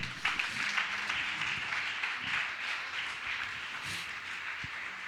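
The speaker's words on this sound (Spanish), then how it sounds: "¿Cuánto le pueden dar un aplauso al Señor?" A church congregation applauds during a service, a soft, steady wash of many hands clapping at a distance, continuous and fairly even throughout.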